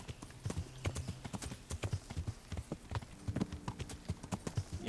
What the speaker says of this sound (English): You can tell right away how much faster this horse is.